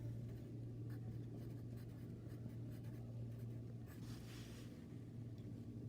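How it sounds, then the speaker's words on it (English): A pen or marker scratches out a math formula in quiet, continuous strokes over a steady low hum of background rumble, faint and close. "I'm just going to write that form out for you"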